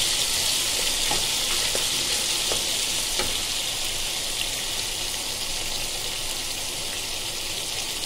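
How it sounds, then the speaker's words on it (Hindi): Muradabadi chicken fries in a pan, giving a loud, even hiss of sizzling oil that holds steady throughout, with a few faint clicks from the pan and no talking. "अभी डालिए इसके अंदर, इसको अच्छे से जरा भूनेंगे"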